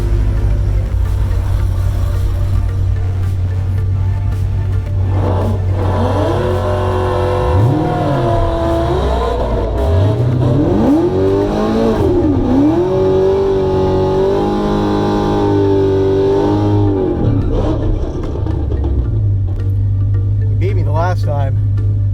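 Tree-L1 race car on a drag strip at Galot, engine droning and rising through several revving sweeps as it accelerates, loud and continuous, with a talking voice over the engine.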